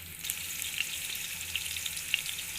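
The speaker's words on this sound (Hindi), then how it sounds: "घ्यो साडा काफ़ी हद तक गर्म हो चुका। हुण असीं इहदे विच प्याज पाइंदे पे हैं।" Chopped onions fry in hot ghee for eggplant rice, a steady close hiss and crackle with small pops scattered through, continuous and moderately quiet with no talking.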